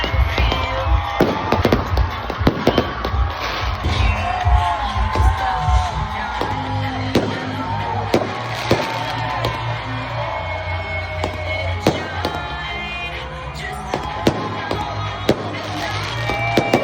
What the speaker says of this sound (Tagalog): meron silang fireworks para sa atin sa unang gabi natin dito sa bayan ng